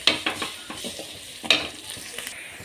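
Chopped onions sizzle and fry in a pan with curry leaves and rock salt, stirred with several sharp utensil scrapes and taps over a steady close sizzle.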